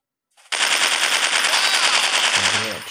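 A loud, sustained burst of rapid automatic gunfire from a dinosaur-hunter sniper shooting game on Android, starting abruptly and hammering on without pause.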